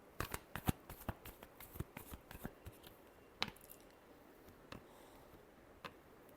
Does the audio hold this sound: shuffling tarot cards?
yes